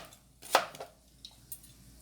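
A kitchen knife slices through apple and pineapple on a board, one sharp cutting knock followed by a few softer taps and scrapes, close and otherwise quiet.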